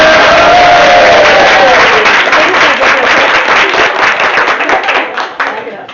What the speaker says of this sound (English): Can we have a round of applause for Miss Debbie?